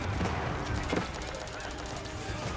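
Bombard cannons fire in an Age of Empires match between Malians and Zhu Xi's Legacy, a dense stream of booming and rattling battle shots that continues through the whole stretch amid other battle noise.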